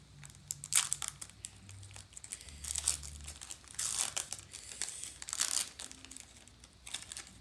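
A Detective Pikachu Pokémon card booster pack wrapper is crinkled and torn open up close, giving repeated bursts of sharp foil crackling and crunching.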